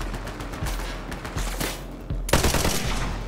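Rapid bursts of gunfire crackle in Borderlands 3, a dense rattling fusillade at moderate distance that swells into a sharper, louder volley near the end.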